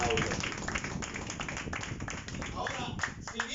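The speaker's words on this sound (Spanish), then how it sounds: "Dale un aplauso." A church congregation at a sermon applauds with steady, dense clapping that carries on throughout, mixed with a preacher's voice and crowd noise.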